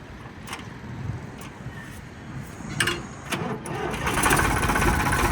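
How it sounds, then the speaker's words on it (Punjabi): A Sonalika 35 tractor engine cranks and catches after some rattling and clicks, then settles into a loud, rough running rumble. "ਸਟਾਰਟ ਕਰਕੇ ਵੀ ਦਿਖਾ ਦੇ ਟਰੈਕਟਰ"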